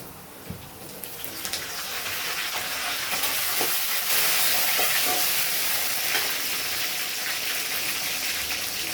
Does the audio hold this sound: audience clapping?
no